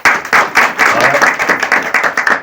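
An audience at a village elders' honouring ceremony in Uttarakhand claps loudly in a dense, close round of applause, with pulses of clapping rising and falling over the whole stretch.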